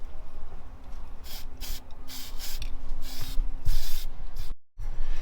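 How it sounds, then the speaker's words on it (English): An aerosol spray can hisses paint onto metal roof gutter parts in short bursts of varying length, fairly close and fairly quiet, with a brief pause near the end. "we're going to go through the process this now and spray up the rest of them"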